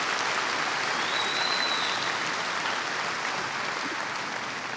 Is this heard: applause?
yes